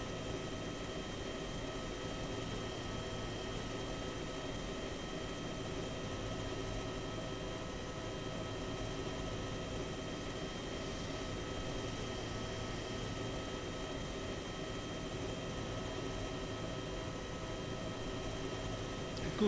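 A video-game helicopter holding steady flight with the collective at the detent, a constant even rotor and engine drone with no breaks, moderately faint and unchanging throughout.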